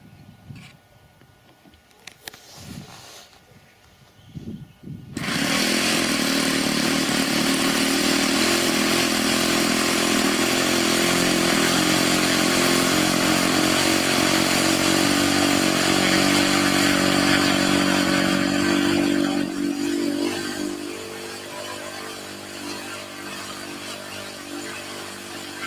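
Small four-stroke engine on an RC Spacewalker model plane in Northern Ireland drones loudly and steadily for about fifteen seconds, then eases to a lower, slightly quieter pitch as it flies on, after a few seconds of quiet handling.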